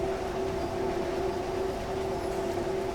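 A simulated train in Train Sim World 6 on a German route, heard as a steady, even cab rumble with a constant tonal hum, running unbroken throughout.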